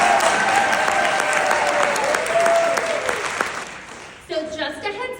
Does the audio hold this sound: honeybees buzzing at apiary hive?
no